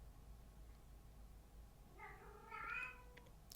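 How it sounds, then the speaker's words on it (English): A house cat meows a couple of times, faint and somewhat distant, rising briefly out of a steady background hiss near the end. "Kitty is going off right now, just meowing like crazy."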